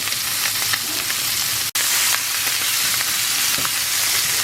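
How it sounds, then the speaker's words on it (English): Chorizo sizzles loudly and steadily in a hot pan while it is stirred around. The sound is a dense, continuous crackle with a single brief dropout partway through. "I'm going to add in this chorizo and stir that around"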